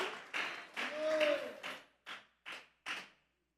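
Church congregation clapping hands in worship, a broad burst of applause followed by three separate sharp claps, fairly close, with voices mixed in during the first part.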